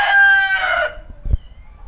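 A rooster crows loudly and close by among his nine black-and-white hens in a backyard pen, the long harmonic call fading out before a few short clucks and low thumps near the end.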